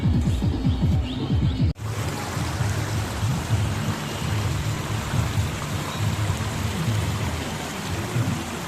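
A stream flowing near a small village in Odisha, at a spot with red stone, makes a steady broadband rush of water throughout, with a brief dip in level early on and then continuous churning.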